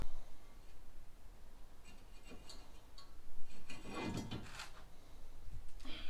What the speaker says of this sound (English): Take the rotor off.